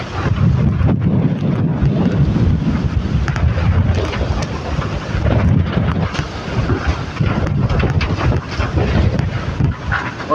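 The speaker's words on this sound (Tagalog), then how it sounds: "Puros-puros ang hangin mga kataski." Strong wind roars steadily and loudly in Merida, Leyte, Philippines, just after Typhoon Tino, with buffeting gusts on the microphone and no talk.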